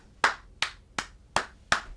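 Five sharp, evenly spaced claps ring out close and alone, each a crisp slap with a quick fade, spaced about a third of a second apart in a slow, deliberate rhythm.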